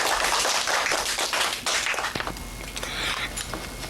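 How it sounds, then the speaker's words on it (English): Audience of schoolchildren and adults clapping in a school reading event, a lively burst of applause that thins into scattered, uneven claps and taps. "Now clap."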